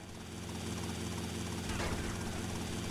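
Helicopter in the video game GTA Vice City, a loud continuous rotor and engine drone with a fast chopping beat, heard steadily throughout with no talking.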